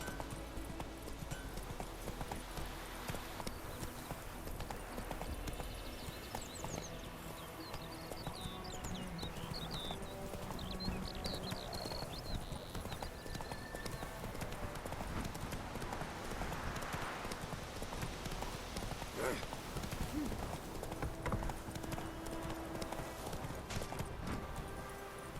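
A horse's hooves clip-clop rapidly and continuously as it gallops in The Witcher 3 video game, with a faint, brief whinny under a dense layer of game ambience.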